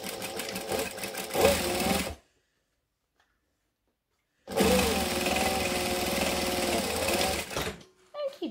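Sewing machine stitching fabric panels closed into a loop for a Melona garment, running steadily in two long bursts separated by a silent pause, loud and close with a slight wind-down at the end.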